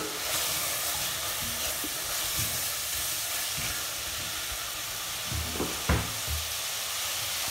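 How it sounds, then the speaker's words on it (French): Onions stirred into minced meat frying in a pan for chili con carne: a steady, close broadband sizzle with a few louder scraping stirs near the end. "maintenant je rajoute les oignons. Je mélange bien."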